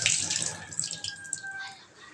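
Water runs and splashes into a cooking pot on a home kitchen stove for a Sunday curry, a steady pouring wash with a bright trickle that fades over about two seconds.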